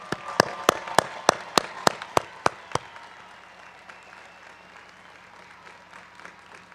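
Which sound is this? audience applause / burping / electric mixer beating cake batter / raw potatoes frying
audience applause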